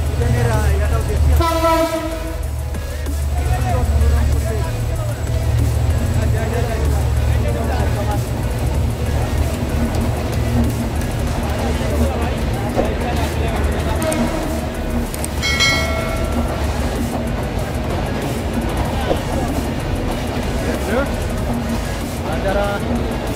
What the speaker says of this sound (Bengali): আর একটু দেখেন আপনাদের একটা ট্রেন যাচ্ছে